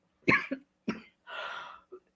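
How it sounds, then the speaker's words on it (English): A couple of short, close coughs, then a longer breathy rasping cough and a final small one, with no talking around them. "I'm gonna get the cough"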